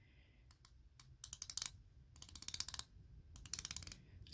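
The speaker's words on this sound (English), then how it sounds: "Let me show you a little bezel action. It's got a 60 click bezel" A TAG Heuer 2000 Professional quartz watch bezel ratchets through its 60 clicks in quick close bursts, crisp metallic ticks grouped in several runs with short pauses between.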